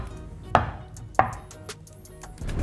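A knife chops onion, capers, cornichon and parsley for a steak tartare dressing, two distinct close knocks on the board followed by softer scattered cuts.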